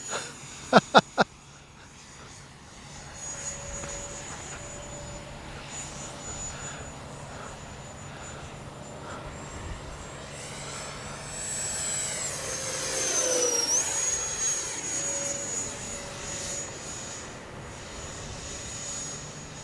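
A Freewing F-22 RC jet with an electric ducted fan flies overhead with a steady high-pitched whine. It sounds distant at first, then swells and shifts in pitch as it makes a closer pass. A few sharp clicks are heard near the start.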